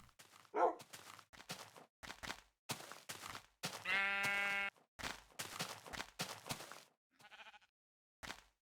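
Pink sheep bleating in Minecraft, a long buzzy bleat standing out midway amid a series of short bursts and clicks from the game, fairly close and moderately loud.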